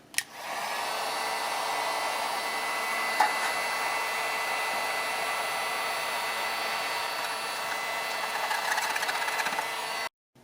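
A power DA sander grinds thick Bondo off a Yamaha RZ350 gas tank, a steady loud whirring buzz running almost nonstop for about ten seconds and then cutting off.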